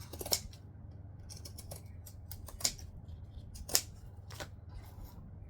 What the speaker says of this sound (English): Now I'm probably going to want to trim down my curvy corners with my zigzag scissors